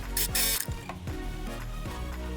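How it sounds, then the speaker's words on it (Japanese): A sewing machine stitches the body of a handmade insulated plastic water bottle holder down to the bottom in an L-shaped seam, with rapid mechanical clicking and thumps close up. "こちらからこのように底部分まで L に縫っていきます。"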